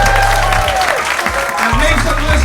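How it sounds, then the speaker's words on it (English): An audience at a live podcast taping applauds and cheers, a dense, steady crowd noise that stays loud throughout with a musical tone running underneath. "Give a round of applause to everyone that you've seen tonight."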